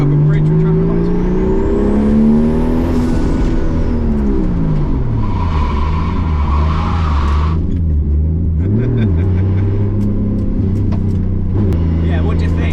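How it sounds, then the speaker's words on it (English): A turbocharged Nissan S13 with an RB25 engine pulls hard, its loud engine note rising and falling through gear changes with a whistle sweeping up. People talk over it inside the car. "I'll just try and floor it up a bridge with traffic lights on"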